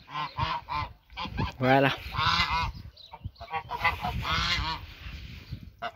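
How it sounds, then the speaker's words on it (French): Domestic geese in a pen honk loudly in repeated overlapping bursts close by, with a brief spoken word from a person among them. "faut pas oublier que ça reste des oies"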